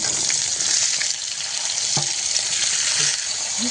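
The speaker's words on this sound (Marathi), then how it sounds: "गवार छान परतून घ्यायची आहे" Cluster beans (gavar) sauté in a pan with turmeric, curry leaves and coriander, producing a loud, steady sizzle with a few faint stirring clinks throughout.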